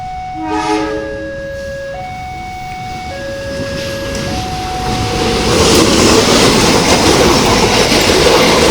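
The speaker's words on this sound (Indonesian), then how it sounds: "Yuk kita saksikan kereta api Pasundan." Pasundan passenger train in Indonesia passing a level crossing: a loud two-tone horn sounds in blasts, then the rumble and rail clatter grow steadily louder and close.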